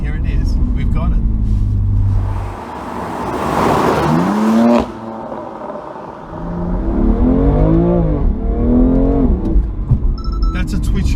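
A 2019 BMW M2 Competition fitted with the M4 engine drives on the road, its engine rising and falling through revs with gear changes, loud and close throughout with a brief dip midway.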